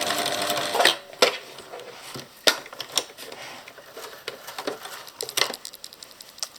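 Sewing machine stitching fabric for a tab-top valance, a close burst of rapid mechanical whirring with brief pauses and clicks between short runs, including a quick reverse stitch.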